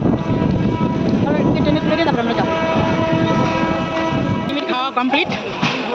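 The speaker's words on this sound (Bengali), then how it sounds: "মনে হয় ট্রেন ঢুকছে" A train rumbles and clatters steadily nearby as it pulls into a station, with a loud continuous mechanical drone and metallic squeals.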